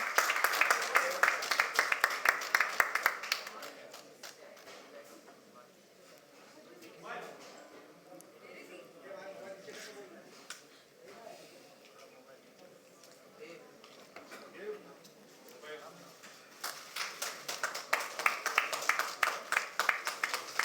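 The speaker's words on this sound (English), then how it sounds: "A huge round of applause for Mr. Khan." Clapping breaks out at the Filmfare Awards 2023 press conference, a crowded burst at the start that fades under someone talking, then picks up again near the end.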